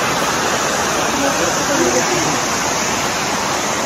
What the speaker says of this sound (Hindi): पानी की आवाज़ तो आ रही होगी।